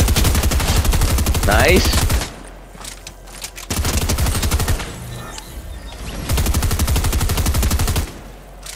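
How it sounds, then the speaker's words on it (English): Loud automatic gunfire in a video game, with long rattling bursts that break off and restart three times, and a brief spoken word in one of the pauses. "What are you shooting at?"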